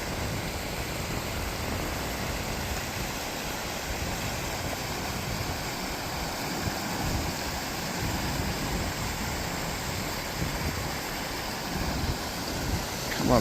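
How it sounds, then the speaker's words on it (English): Raging rapids of a woodland brook rush in a constant, loud, broadband roar of churning water, close by and unbroken, with no talking over it. "Check out this raging rapids here"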